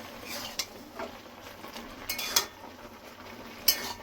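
A lid lifted off a pot of simmering lentil dal with pumpkin greens, giving a few sharp metallic clinks over a steady soft bubbling background.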